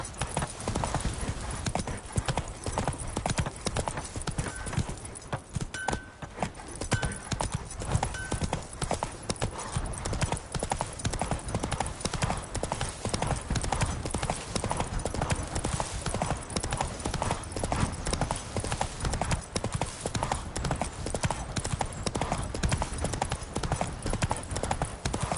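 Roach, a horse in The Witcher 3, trots with steady, continuous hoof clip-clops close by throughout, a brief whinny partway through.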